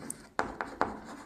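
Chalk or marker on a board during a biology lesson makes three quick scratchy strokes in close succession, near and fairly loud, with a faint room background.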